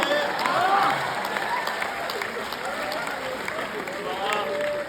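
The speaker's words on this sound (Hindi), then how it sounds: "क्या श्रद्धा से ताली बजा रहे हो" An audience claps at a Hindi poetry recital held at IIT Ropar, a dense run of applause that starts loud and stays steady, with shouts and voices mixed in.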